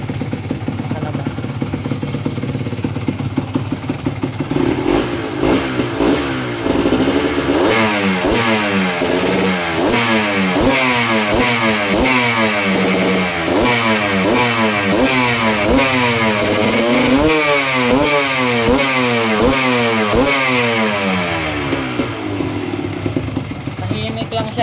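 Kawasaki KMX 125 two-stroke motorcycle fitted with a KTM 85cc arrester exhaust, idling and then revving repeatedly in loud rising and falling bursts, close up, with people talking nearby.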